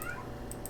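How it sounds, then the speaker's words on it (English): A pet cat gives a faint, short meow in the background of a quiet room, a single brief call at low volume. "That's just my son's cat meowing because why not?"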